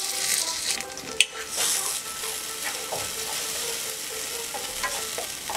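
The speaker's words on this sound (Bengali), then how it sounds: "এবার এর মধ্যে বাটা পোস্তটা দিয়ে দিচ্ছি। দিয়ে 2 মিনিট লো টু মিডিয়াম ফ্লেমে কষব।" Fried onions and ground poppy seed paste cooking in a pan over low to medium flame for aloo posto, a continuous close sizzle with scattered stirring scrapes and one sharp clink.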